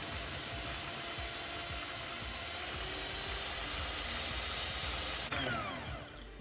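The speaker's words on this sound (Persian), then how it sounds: "۷۰ گرم پودر قند رو اضافه میکنم و اونقدر میزنم تا حالت کرمی پیدا بکنه و پوک بشه" A mixer hums and whirs at a constant pitch close by as it beats softened butter with powdered sugar until creamy. The sound ends with a brief clunk.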